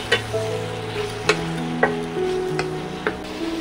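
A spoon stirs ground spice paste into ginger and tomato in a pan, giving a soft sizzle with a few sharp scraping taps against the metal, close and alone, with a steady tonal hum underneath.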